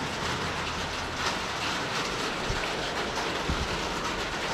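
Rain falling outdoors in an urban setting, a steady broadband hiss with occasional low thumps, no talking.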